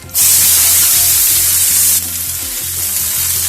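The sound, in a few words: onions frying in a pan over medium flame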